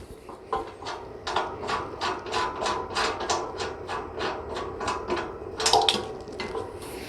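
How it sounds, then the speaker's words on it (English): Repeated sharp clicks and ratcheting snaps from unlocking the middle hinge of an i2r Tech folding truss, a rapid series of close mechanical latch sounds with no talking. "Now I can unlock the middle hinge."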